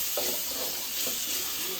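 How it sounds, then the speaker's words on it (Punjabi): Tadka tempering spices sizzling in a hot pan, a steady frying hiss with faint stirring scrapes, close and continuous, no talking. "ਆਪਾਂ ਤੜਕਾ ਲਾਉਣਾ ਲਓ ਜੀ ਤੜਕਾ ਲਾ ਕੇ"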